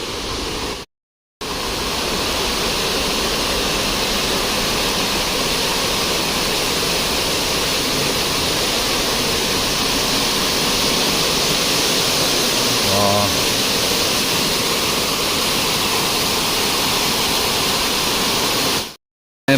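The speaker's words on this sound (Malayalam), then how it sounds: "പെരുമ്പൻകുത്ത് വെള്ളച്ചാട്ടം" A steady, loud roar of falling water at Perumbankuthu waterfall near Mankulam fills the whole stretch without letting up, broken only by a brief cut near the start.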